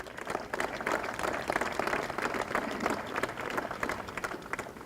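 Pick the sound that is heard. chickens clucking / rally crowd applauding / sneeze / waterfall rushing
rally crowd applauding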